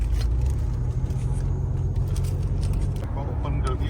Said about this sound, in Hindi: इसमें वाकई गाड़ियाँ ही गाड़ियाँ आपको नज़र आएंगी। और ट्रैफिक जो है ना वो आपको बहुत ज़्यादा नज़र आने वाला है